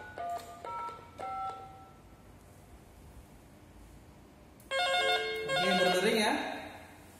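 A telephone on a Panasonic analog PABX extension gives a few short electronic ring tones early, then quiet hiss, then a louder burst of layered beeping tones near the end.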